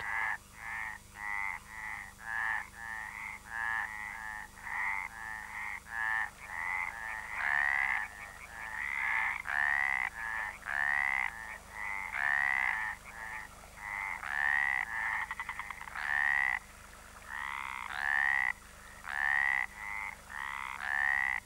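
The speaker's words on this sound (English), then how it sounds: "It's called the stripeless tree frog" Stripeless tree frogs croak in a steady chorus of short, rhythmic calls at breeding pools at sunset, many voices overlapping loudly and continuously with no talking.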